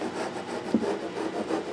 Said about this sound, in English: I'm going to just use fret eraser and see how this takes care of that